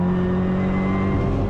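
A Kia Ceed GT Cup race car drives through a corner, its engine a loud, steady, close drone with a low rumble and no pause, heard alone.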